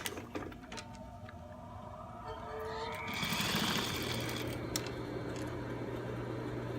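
A sewing machine stitches a seam over an underwear strap, its fast needle chatter starting softly and rising into a steady, close mechanical whir that runs for several seconds with no talk.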